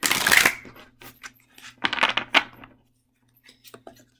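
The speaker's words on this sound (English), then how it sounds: "So I'm going to shuffle these for a second." Oracle cards are shuffled by hand in quick riffling bursts, a loud flurry first, then softer intermittent shuffles and taps in a quiet room.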